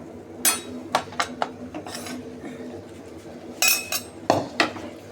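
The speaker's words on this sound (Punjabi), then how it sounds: "ਹੁਣ ਆਪਾਂ ਨੇ ਵਿੱਚ ਪਾ ਦੇਣੇ ਆਲੂ ਜਿਹੜੇ ਆਲੂ ਆਪਾਂ ਤਲੇ ਆ" Fried potatoes tipped into a pan for a Punjabi capsicum and potato curry, with a series of sharp metallic clinks and scrapes of utensil against the pan, several bursts spread across the stretch, close and fairly loud.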